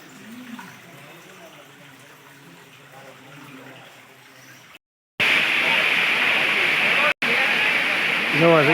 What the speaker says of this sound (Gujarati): પાણી સતત ચાલુ છે.